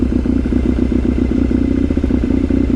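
A Kawasaki KZ750 Scrambler motorcycle engine idles steadily while warming up, a loud, close, continuous low throb with a regular pulsing rhythm and no voices.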